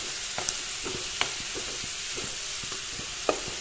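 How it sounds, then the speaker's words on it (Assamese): Spices frying in oil in a pan, a soft steady sizzle broken by a few sharp stirring clicks of a spoon against the pan. "এইখিনিও এনেদৰে অলপ ভাজি ল'ম এই তেলতে।"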